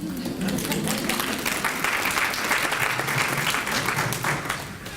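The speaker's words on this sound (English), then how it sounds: "you should clap your hands for your own self" An audience at a community conference panel on smoking applauds, with steady dense clapping across the room and voices talking over it.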